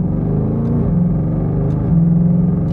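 A Shelby GT500 engine pulls in second gear at just under half throttle, giving a steady, loud low rumble that rises slightly in pitch as the car gains speed, with no talking.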